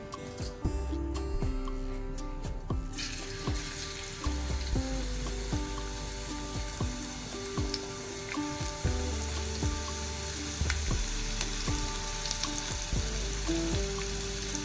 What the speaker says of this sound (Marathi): मी आता टोपात तेल टाकलेलं आहे आपलं तेल तापलं की मग आपण त्यामध्ये लसूण टाकणार आहोत